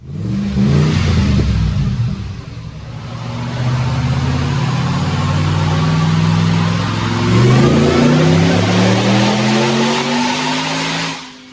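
A supercharged Ford Sport Trac with a Roush conversion and MagnaFlow exhaust parts revs hard on a test drive, the engine note climbing and falling through loud sustained pulls, close and with no talk.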